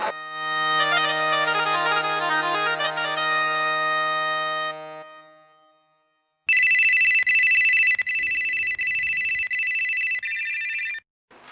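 Telephone ringing in a Hindi comedy scene: a long electronic ringtone sounds loudly, pauses for about a second, then a second sharper, brighter burst rings again, with no talk over it.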